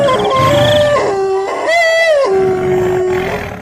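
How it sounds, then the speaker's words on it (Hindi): Wolves and dogs howling together, long wavering howls rising and falling in pitch, loud and close, one voice sliding upward mid-way with others layered underneath. "पीछे से भेड़ियों के रोने की और कुत्तों के रोने की आवाजें भी आने लगती हैं।"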